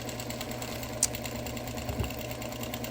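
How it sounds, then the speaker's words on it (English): A quilting machine stitching in the ditch around a tree block on a quilt, a steady close mechanical hum with a rhythmic running drone and one brief click. "here we're doing ditch quilting around the tree block itself"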